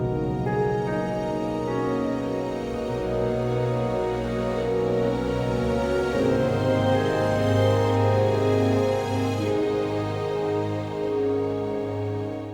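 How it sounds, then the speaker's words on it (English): Minecraft main menu music from the video game: soft, sustained layered synth and piano-like tones with steady harmonic pads, playing continuously at moderate level with no voices. "While the music that can play while you're on the main menu sounds like this."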